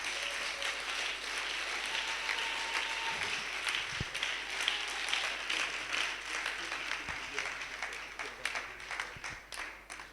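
A church congregation at a Sunday service breaks into sustained applause, a steady wash of many hands clapping at moderate distance, with a few faint voices mixed underneath throughout.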